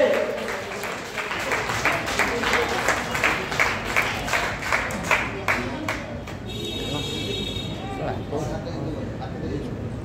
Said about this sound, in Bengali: কন্টিনিউয়াস হাততালি চলবে।